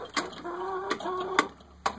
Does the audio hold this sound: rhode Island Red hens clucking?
yes